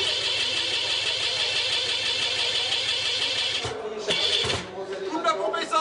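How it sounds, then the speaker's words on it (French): Powerboat racing engine tested by mechanics on the quay, a steady mid-pitched running drone with rhythmic pulsing, interrupted near the end by a few sharp revs and knocks as it cuts and sputters. "Les mécanos testent une dernière fois le moteur."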